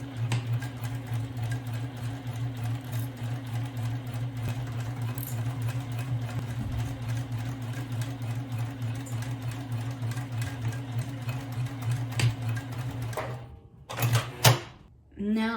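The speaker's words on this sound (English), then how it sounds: "We're at the sewing machine" A sewing machine stitches a seam on a lunch bag, a steady close hum with a rapid needle rhythm running continuously before stopping near the end, followed by a few handling knocks.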